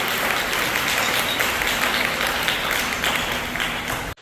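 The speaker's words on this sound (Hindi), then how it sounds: "खुदावंद यीशु मसीह के लिए जोरदार तालियां" Loud, steady applause from a church congregation praising Jesus Christ during a Hindi-language worship gathering, dense clapping sustained throughout before cutting off abruptly at the end.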